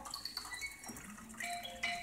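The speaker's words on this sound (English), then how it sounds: "Waterfall." A small waterfall trickles and splashes in an aquarium turtle habitat, a steady light water sound with bright drips, close and fairly quiet.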